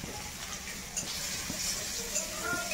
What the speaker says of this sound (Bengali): লাল আলু ভাজা।